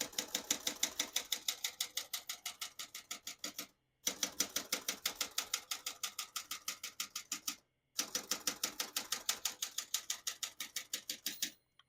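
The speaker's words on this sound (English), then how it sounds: "Once you hear the bell, you're at the end of the margin." Rapid, evenly paced keystrokes on a 1974 Olympia SF ultra-portable typewriter clack close up in three bursts, each ending with a short pause; no distinct bell ring stands out.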